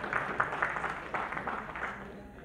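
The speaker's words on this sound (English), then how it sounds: "Another round of applause." Audience applause at the St. Kitts & Nevis Association of Florida 21st Independence Dinner & Ball, a dense, steady wash of clapping across a banquet hall that lasts throughout, mixed with voices.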